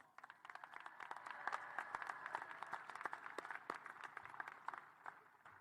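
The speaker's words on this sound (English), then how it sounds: "Let's give all these scholars another round of applause" Audience at a high school graduation claps for the graduating scholars, a quiet, distant, continuous patter of many hands filling the hall without any talk.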